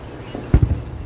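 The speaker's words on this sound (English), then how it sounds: "They're throwing one of the biggest fireworks" Large Fourth of July fireworks bursting outdoors, two quick deep booms close together followed by a rumbling tail, fairly loud against a quiet background.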